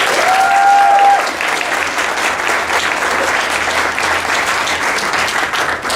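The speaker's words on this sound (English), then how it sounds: "give our county executive and this county council that's been working with our development community a huge round of applause" A large crowd at a Prince George's County civic gathering gives a sustained round of applause, loud and dense clapping running the whole time with a brief tonal squeal near the start.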